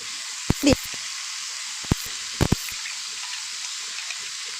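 Whole cumin, dried chillies and chopped bay leaf fry in oil for a Bengali bhetki fish curry, giving a steady sizzling hiss throughout, broken by a few sharp utensil clicks and knocks.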